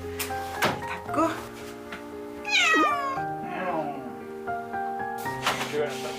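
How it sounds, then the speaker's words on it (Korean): A timid cat in an indoor room meows several times, with one clear rising-falling meow and fainter calls around it, alongside narration and small household thumps. "고양이들의 따돌림을 멈추기 위해 가장 연약한 요나부터 다른 고양이들과 분리해 자신만의 안식처를 만들어주게 됐는데요"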